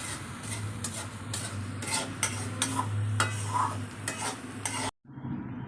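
Masala for an Odia Magur fish curry sizzles in a hot pan while a spoon stirs and scrapes it in steady repeated strokes, close and fairly loud, with a brief gap near the end.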